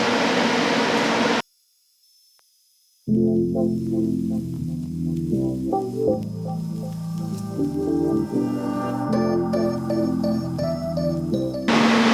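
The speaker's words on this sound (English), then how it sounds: "You can even hear me because the welder's on." An arc welder runs while roll cage tubes for a stage rally car are welded. It makes a steady, loud electrical buzz and hum with layered tones, broken by one brief dropout into near silence.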